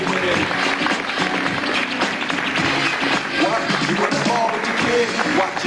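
Dense, steady applause from a crowd at a school fashion show, filling the whole stretch with continuous clapping at a fairly loud level, with some voices mixed in.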